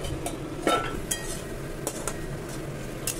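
A metal lid clinks onto a cooking pan during a spiced stingray curry, giving a few sharp, light clanks and taps close by with a low kitchen hum underneath.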